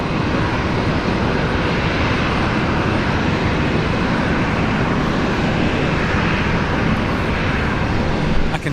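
A Dash 8 turboprop taxis at Brisbane Airport at sunset, a loud, steady broadband engine roar that holds constant throughout with no speech over it.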